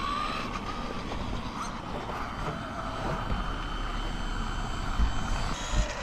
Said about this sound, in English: it's definitely cutting power